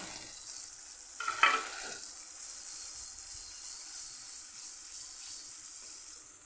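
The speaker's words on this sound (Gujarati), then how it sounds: "આપણે જે ટમેટું ખમણીને રાખેલું હોય અહીંયા ઉમેરી દેવાનું છે" Grated tomato drops into a gravy with yogurt for a capsicum and potato curry, setting off a brief burst of louder sizzling before a steady hiss and gentle stirring continue alone.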